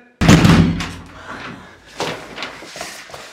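A door slams shut in a Turkish TV drama scene, one sharp loud impact followed by fainter thuds and rattles.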